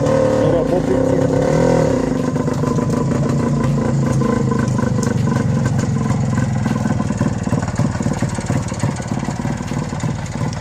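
A motor scooter engine runs steadily at idle while warming up, a close, continuous mechanical drone with a slight easing of pitch, with voices talking over it.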